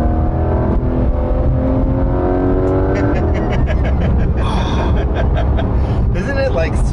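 A Porsche GT3 RS engine revs hard and climbs in pitch through the gears on twisty roads, loud and close from inside the car, with people talking excitedly over it.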